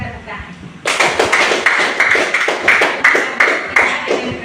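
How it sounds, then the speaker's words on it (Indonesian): A classroom of students applauding a group's finished work, a burst of dense, close clapping that starts suddenly after a quiet moment and continues steadily in rhythmic waves. "kita berikan tepuk tangan"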